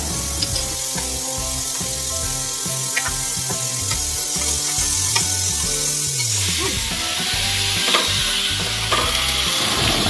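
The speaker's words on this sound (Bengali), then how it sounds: "আমরা গ্রেট করে রাখা আলুটিকে ভালো করে ভেজে নেবো" Grated potato fries in a pan with salt, roasted spice mix and chopped coriander. A dense, steady sizzle sounds close up, with stirring scrapes and faint background music.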